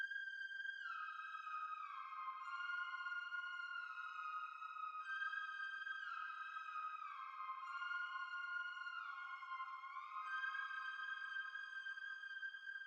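A thin, clean synth lead melody made in FL Studio gliding between notes with smooth slides, its pure bright tones stepping and bending in a steady phrase. It plays fairly quietly and alone, with no voices.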